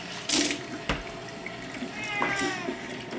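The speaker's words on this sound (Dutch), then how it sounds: "Maar in ieder geval nu even fles water vullen." Tap water runs into a bottle at a home sink, a soft steady splash whose pitch rises faintly as the bottle fills, with a few clinks and brief noises around it.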